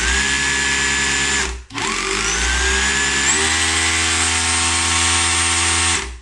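A repaired Makita 18V SDS drill, stuck in hammer mode, runs loud and close with a steady whine, briefly cutting out and restarting, then settling into a slightly changed pitch.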